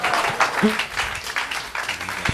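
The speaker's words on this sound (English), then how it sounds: "Round of applause for Reverend Michael one more time." An audience at a Unity Sunday church celebration applauds Reverend Michael Gott, a dense, even patter of many hands filling the room, with voices briefly murmuring beneath it.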